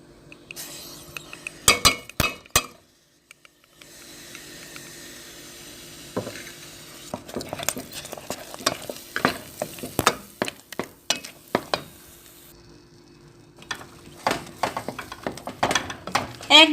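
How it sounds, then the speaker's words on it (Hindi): Eggs going into cooked semolina in a pan for egg halwa, with clinks of a utensil against the pan, sharp scraping strokes and a soft sizzle between them, close and fairly quiet. "अब हम एग डाल देंगे।"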